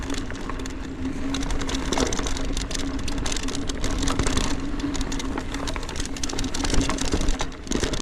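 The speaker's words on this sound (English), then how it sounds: "You can hear the noise of the bike, and everything you hear in the video is not trail chatter," A Berria Mako Sport bike rattles continuously while being ridden, a steady chatter and buzz that sounds like cables rubbing against the frame, constant and fairly loud throughout with no speech.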